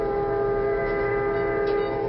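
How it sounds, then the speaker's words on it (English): A locomotive simulator in a railway safety exhibit car sounds its horn in one continuous, loud, steady tone with rich layered harmonics, lasting the full two seconds. "horn"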